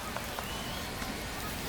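Steady rain pours down on a ball field in the baseball video game MLB The Show, a dense, even hiss without pause.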